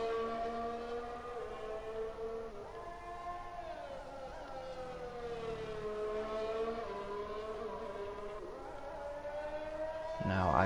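Racing video game with a single-seater race car engine droning at high revs, its pitch sweeping up and down through gear changes against a steady background, heard moderately and continuously, with a sharp burst near the end.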